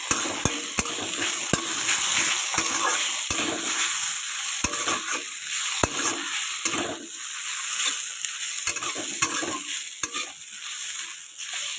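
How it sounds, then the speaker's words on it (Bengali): Potatoes frying in oil in a wok for aloo paratha, a continuous close sizzle and hiss with frequent quick clicks and scrapes of a spatula against the metal, no talking. "আলুগুলো একটু ভেজে নেবো হালকা"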